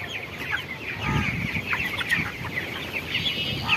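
Broiler chickens on a poultry farm cluck and murmur close by in a busy, overlapping chorus, with scattered higher squawks rising over a low rustle and no talk.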